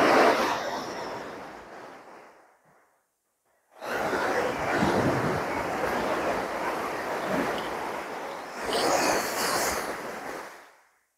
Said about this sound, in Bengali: এবার আমরা একটু সমুদ্রের দিকে চলে যাচ্ছি শব্দ শোনার জন্য।